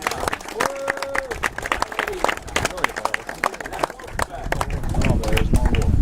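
Spectators applauding at a youth cycling race, brisk scattered clapping from a modest outdoor crowd that grows fuller and louder toward the end, with chatter and an announcer's voice in the background.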